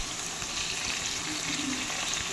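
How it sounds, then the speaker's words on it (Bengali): Potatoes frying in hot oil in a kadai, a steady close sizzle that stays even throughout with no talking. "এবার আলুগুলো আমি একে একে ভেজে নিচ্ছি"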